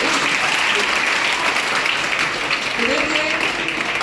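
Steady applause from a seminar audience, dense clapping filling the whole stretch at an even level.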